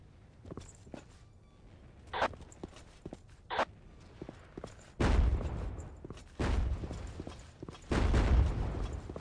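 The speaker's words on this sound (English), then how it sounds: "Hearing a lot of explosions." Explosions rumble through a Battlefield 1942 World War II battle, with three heavy booming blasts in the second half following a scatter of smaller distant thumps and pops, no voices.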